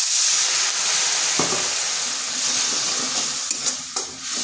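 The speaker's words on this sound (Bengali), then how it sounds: "এটা বেশ ভালো করে একটু কষে নিচ্ছি।" Ground spices such as cumin and garam masala sizzle and hiss in a pan with a splash of water while being stirred, a steady frying hiss with a few soft scraping knocks near the end.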